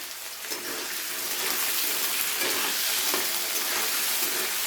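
Potatoes lightly salted and frying in oil in a pan, a dense, steady sizzle and crackle that swells slightly partway through, close and continuous with no talking.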